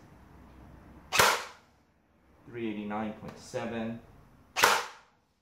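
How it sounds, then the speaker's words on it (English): Two loud, sharp shots from a JG piston airsoft gun, a couple of seconds apart, each a crisp near crack; between them a man reads out a chrono figure. "So I shouldn't see any drop in FPS when I first start firing this gun."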